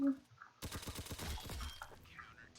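Rapid burst of Roblox gunfire in a video game, a quick string of sharp shots over about a second, fairly loud and close, preceded by a brief quiet stretch and trailing into softer game noise.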